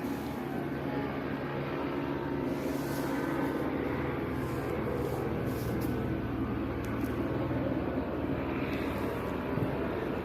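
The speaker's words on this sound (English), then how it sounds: "That's a helicopter again." A helicopter flying overhead, heard as a steady, continuous low engine-and-rotor drone at moderate distance, unbroken for the whole stretch with no talking.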